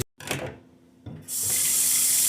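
Tap water runs steadily into a sink as potatoes are washed for a crab boil, starting with a few splashes and handling sounds, then settling into a loud, continuous gush that carries to the end.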